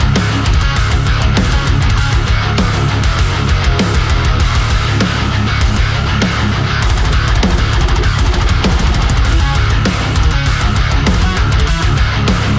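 A dense, loud full rock mix with a Strandberg Boden Prog 5 bass and heavy distorted guitars, played as a thick, steady wall of sound with punchy low end and driving drums throughout. No voices are heard.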